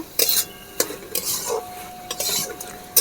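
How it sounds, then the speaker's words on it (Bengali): Fried taro stolons and shrimp are stirred into spices in a pan, with repeated close scraping and clinking strokes of a spoon against metal over a soft sizzle. "ভেজে রাখা কচুর লতিগুলো দিয়ে দেবো আর তার সাথে ভেজে রাখা চিংড়ি মাছগুলোও দিয়ে দেব ভালো করে মশলার সাথে আমি মিশিয়ে নেব"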